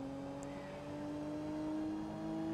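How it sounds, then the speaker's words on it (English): The quiet engine of a Lotus Carlton in the Forza Motorsport 2 video game gives a steady, smooth drone with a low tonal hum that rises slightly in pitch, heard alone, soft and even throughout. "Pretty quiet engine, I will admit."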